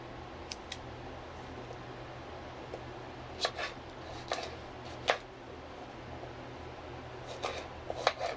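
Food being cut in a small home kitchen, a few sparse, crisp knife taps and snips spread out irregularly, fairly close, over a low steady hum of room noise.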